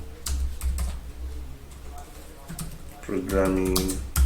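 Keys clatter on a computer keyboard as Java code is typed, in quick uneven bursts of clicks, close and fairly loud, with a voice speaking over parts of it.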